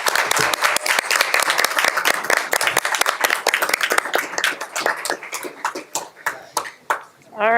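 A crowd at a school board meeting claps after an evening of recognitions. Brisk, sharp handclaps stay thick at first, then thin out and fade, with a voice starting at the very end.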